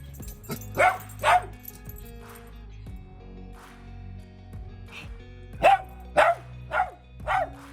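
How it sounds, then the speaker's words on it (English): A dog barks in a series of sharp yips and barks, spaced irregularly, close by, with quieter rustling between them. "Why are you barking?"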